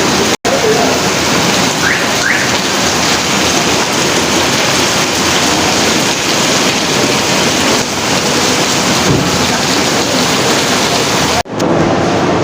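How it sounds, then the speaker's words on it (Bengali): Heavy rain driven by wind pours down in a steady, loud roar close by. The dense downpour holds unbroken for about eleven seconds before cutting off abruptly. "এখানে চলে আসলো অনেক সুন্দর বৃষ্টি"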